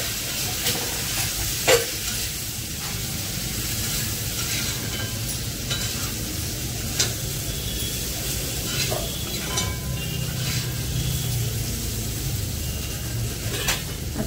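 Cut brinjal pieces frying with crushed garlic in a pan, a steady, close hiss of sizzling oil that runs throughout, with occasional faint clicks of stirring and no speech.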